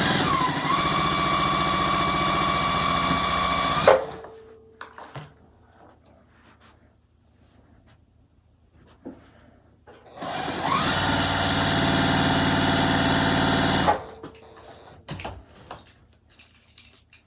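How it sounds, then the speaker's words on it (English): A sewing machine stitches two quilt halves together in two loud, steady whirring runs of about four seconds each, close by, separated by a quiet pause with faint handling clicks. "now we're going to sew these two halves together"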